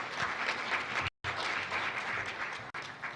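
A crowd at a World Press Freedom Day event gives sustained applause to welcome an African Union Commission speaker, with continuous, fairly even clapping that cuts out briefly for a moment before resuming.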